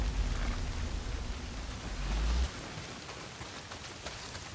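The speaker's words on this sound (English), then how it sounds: "Well, not if it's pissing down rain." Heavy rain pours down in the Days Gone video game, a dense steady hiss of falling drops with deep low rumble that cuts off partway, leaving the constant downpour.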